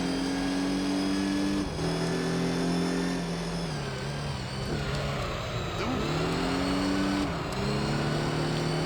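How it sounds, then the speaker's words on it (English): Gran Turismo 3 race car engine held against the rev limiter, a loud steady buzzing drone with brief dips and rises in pitch as it bounces off the limiter, continuous with no talk. "we now hit the rev limiter"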